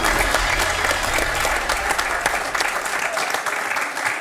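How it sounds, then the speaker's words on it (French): A studio audience on a French television quiz show applauds and cheers in a close, lively burst of clapping that holds steady, with a low rumble at the start. "applaudi et acclamé"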